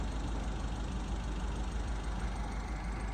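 A Mini Labo motorcycle truck engine idles in a short, steady low chugging hum at moderate volume, with no talking.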